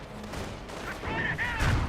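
Gunfire crackles in the Company of Heroes strategy game, a short cluster of overlapping shots and blasts that rises toward the end amid battle noise.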